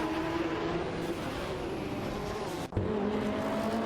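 Porsche race cars, a 961 LM and a 911 GT2, roar in a racing video game, a continuous loud engine drone with a brief dropout near the end.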